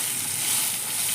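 Potato pieces frying in oil for a fish curry, a brief, steady hiss of sizzling heard up close with no voices.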